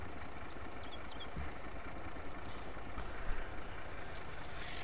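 A truck engine in a farming video game running steadily, a dense, continuous mid-to-low rumble with a slight surge partway through, heard alone without talking.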